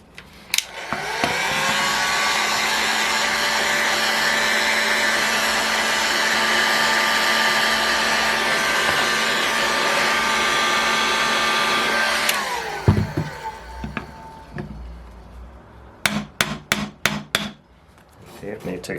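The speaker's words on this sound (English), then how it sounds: "we'll just start heating this massive crankcase up" A heat gun blows with a loud, steady whirring roar while warming a large engine crankcase, then cuts off, followed by a few sharp metallic knocks and clatters as the bearing is worked free.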